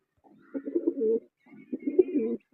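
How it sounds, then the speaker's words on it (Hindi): Lakka pigeon cooing in two rounded, throaty bursts about a second each, close and fairly loud with a short pause between, no talking over it. "ये लक्का कबूतर है"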